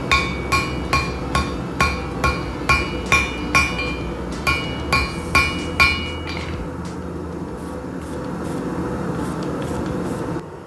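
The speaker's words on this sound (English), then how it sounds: "I'm just going to throw them in the fire and weld them." Steel pieces for a spear are hammered to forge-weld them, with about a dozen sharp, ringing hammer blows in a steady rhythm, close and loud, followed by a few seconds of lower background noise.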